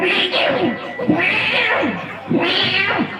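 A cat yowls loudly and close up in three long, drawn-out meows, each wavering and rising in a caterwauling cry.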